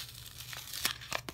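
Small paper envelope of freebies being opened, a short close crinkle and a few sharp tearing rips of paper, quiet and with no talking.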